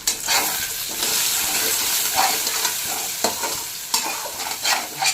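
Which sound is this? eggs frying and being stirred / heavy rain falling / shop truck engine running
eggs frying and being stirred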